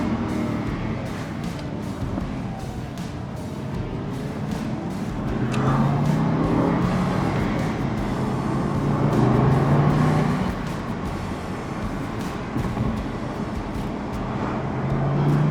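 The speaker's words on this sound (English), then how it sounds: "some more back roads driving in an Aston Martin Vantage Volante" A 2015 Aston Martin Vantage V8 Volante convertible, 420 hp, on back roads, its engine droning steadily and swelling with revs, with road and wind noise throughout.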